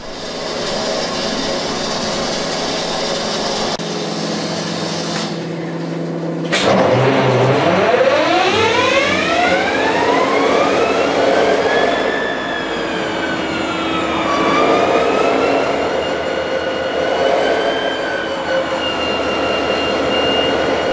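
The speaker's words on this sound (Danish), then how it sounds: "når motoren skal startes, drejes kontakten over i start, og der bliver trykket lidt på håndreguleringen" Diesel engine of a DSB Litra ME railcar starting up: after a steady idling hum, the starter catches and the engine roars up with a rising, revving whine, then settles into a loud, even running drone.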